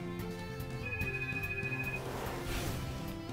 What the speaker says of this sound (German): Wieso geht jetzt das Telefon?